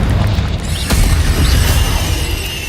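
Confringo fire spell explosions in Hogwarts Legacy combat, a steady loud rumbling roar of blasts with sharp bursts and crackling impacts layered throughout, no speech.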